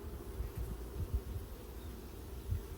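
Honeybees buzz steadily around an open hive during an inspection, a close, continuous drone with soft thumps and shifting intensity, no talking.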